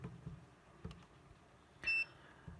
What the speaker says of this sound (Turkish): Bizim buzzer'ımız ötecek değil mi?